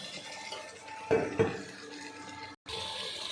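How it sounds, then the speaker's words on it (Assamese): Water splashes and pours into a pot of simmering chicken curry, with two brief louder splashes early on, then a steady low bubbling and stirring backdrop that cuts out briefly near the end. "অকণমান পানী দি দিওঁ ইয়াতে।"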